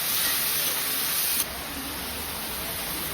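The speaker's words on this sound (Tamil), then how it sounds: "கருவேப்பிலையும் வெங்காயமா போட்டு நல்லா வதக்கணும்" Curry leaves and onion sautéing in a hot pan for chicken thokku give a steady, close sizzle of dense hiss that barely changes, with a slight drop in loudness midway.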